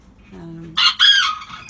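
A low cluck from Serama frizzle hens, which are molting, is followed by a loud, close Serama rooster crow in two bursts, with no talking.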